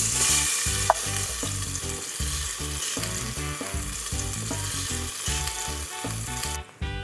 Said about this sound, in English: once that's hot, I'm gonna put my paste in